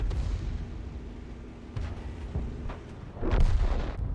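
A 105 leFH18B2 artillery howitzer firing in a tank video game, with several muffled booming shots and a louder blast near the end against a low engine rumble, no talking.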